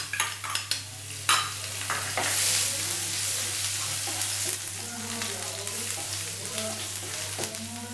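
Finely chopped garlic and asafoetida frying in hot oil, a dense continuous sizzle with clicking stirs and utensil taps near the start, steady and close.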